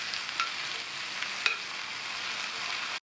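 Okra sautéing in a pan over a medium flame gives a steady, even sizzle with a few faint stirring scrapes, then cuts to brief silence near the end.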